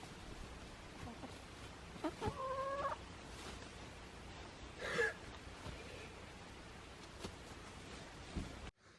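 A few scattered clucks from chickens nearby, with a brief squawk midway, over a quiet outdoor background.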